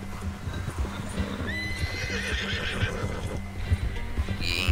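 A horse gallops in the video game Red Dead Redemption 2, its hoofbeats thudding in a quick rhythm close by, with a whinny rising near the end.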